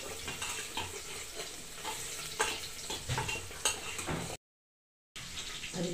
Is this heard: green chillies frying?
yes